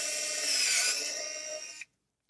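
A power driver whirs steadily for nearly two seconds while removing machine screws from a Wells-Gardner K4900 arcade monitor, then stops abruptly, leaving silence.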